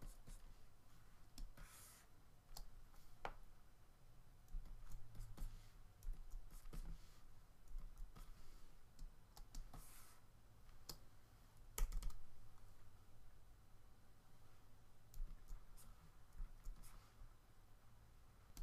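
Soft, close keyboard and mouse clicks while retouching in Photoshop, scattered single taps and short clusters across a quiet room, with occasional faint speech.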